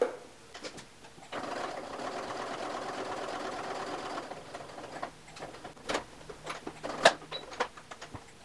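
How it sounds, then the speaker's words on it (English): A sewing machine runs in one steady burst of rapid, even stitching along the edge of a men's shirt collar, then stops, followed by scattered clicks and handling knocks. "I'm going to move my needle all the way over to the right so that I can stitch right on the edge there."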